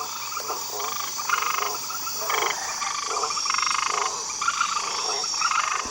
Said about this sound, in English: Pouched tree frogs love to bask in the sun